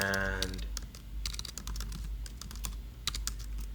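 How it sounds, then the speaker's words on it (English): Close computer keyboard typing, a fast irregular run of light key clicks with quick bursts and short gaps, fairly quiet and alone. "type in my password"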